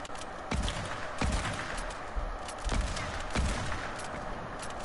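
Sniper rifle gunshots in a shooter video game: about five sharp, separate cracks spaced roughly a second apart over a low, noisy background.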